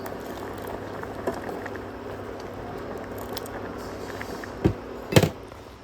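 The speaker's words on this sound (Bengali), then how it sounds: "এখানে জুইয়ের জন্য সেদ্ধ ভাতটা প্রায় হয়ে এসেছে" Rice simmering in a pot for a child's meal, a soft steady bubbling hiss with a few louder clicks and knocks near the end, quiet and close.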